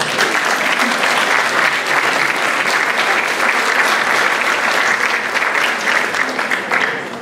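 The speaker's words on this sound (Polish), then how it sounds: "wielkie, wielkie brawa." Sustained applause from a festival audience at a singer-songwriter song concert, dense and loud clapping that continues evenly for several seconds before easing slightly at the end.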